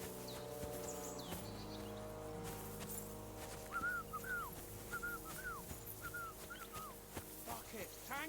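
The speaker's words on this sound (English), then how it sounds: "Your whistling is getting on my fucking nerves the whole way." A character in the medieval game Kingdom Come: Deliverance II whistles short, repeated rising-and-falling phrases, moderately near, over a steady ambient bed with footsteps and a dog nearby.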